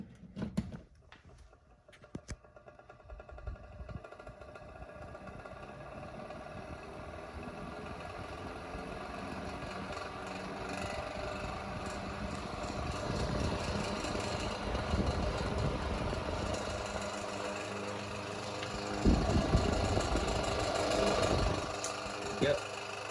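An 8-inch Montgomery Ward table fan runs with a steady motor hum and an ongoing rattle, growing slightly louder over time, with a few brief knocks near the start.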